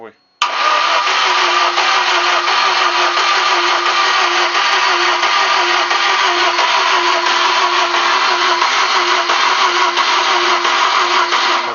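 A VAZ 2110 engine under overhaul cranks without catching, giving one long, loud, steady whirring drone that runs almost the whole clip after a brief silent start.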